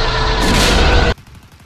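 A single loud blast of gunfire in Arma 3, a heavy booming burst lasting about a second that cuts off abruptly into quiet rumbling tail.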